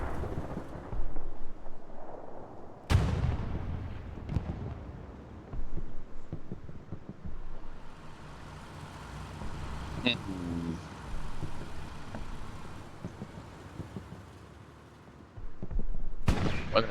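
A WWII tank cannon fires in a tank-only match on Utah Beach, with two sharp booms some seconds apart and distant rumbling battle noise between them while a commentator talks.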